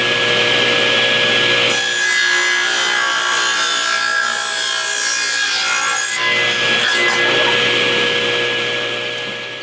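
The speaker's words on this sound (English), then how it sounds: "I'm going to go with the beveled edge, so I got my saw at a 45-degree angle." A saw set to a 45-degree bevel cuts through a wooden board for a cornhole frame, a loud sustained rasping cut of several seconds between quieter stretches of a running motor hum, close and alone.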